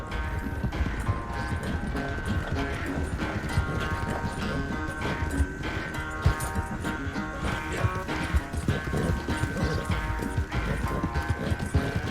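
Galloping horse hooves in the open-world game Red Dead Redemption 2 beat in a steady, driving rhythm throughout, blended into a dense, loud mix of music and ambience with no talking.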